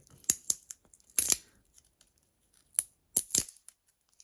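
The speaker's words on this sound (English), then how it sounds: "It's taped on, as you can see. We're gonna remove this tape." Adhesive tape is peeled off an Anker power bank in short bursts: a few sharp, close ripping and crackling pulls separated by quiet pauses, with no talking.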